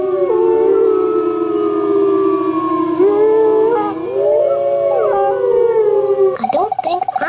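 Layered, wavering wolf howls from the game Elroy Goes Bugzerk, North American timberwolves crying out loud and sustained, several voices rising and falling together, ending in a short burst of sharper noise.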